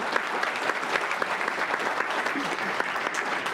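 Luncheon audience applauding with steady, dense clapping from a crowd indoors, sustained for several seconds without pause.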